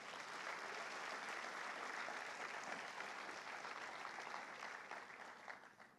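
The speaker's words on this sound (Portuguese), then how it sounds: "Aplauda o Senhor Jesus" A church congregation applauds together in sustained, dense clapping that fills the room at steady strength, then tapers off slightly toward the end.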